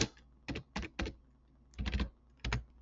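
Keys tapped on a computer keyboard to enter a date, a few quick close clicks in two short bursts with a pause between.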